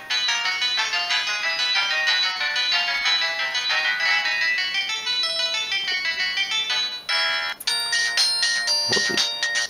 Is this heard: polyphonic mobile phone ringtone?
yes